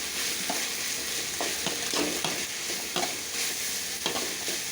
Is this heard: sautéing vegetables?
yes